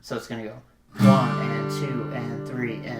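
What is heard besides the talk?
No everyday noise stands out behind the speech.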